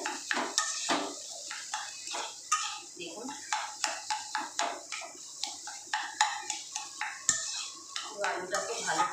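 Mashed potato is stirred into a potato samber in a pot, making steady rhythmic scraping and clinking of a spoon against metal, repeated strokes about once a second, close up and moderately quiet.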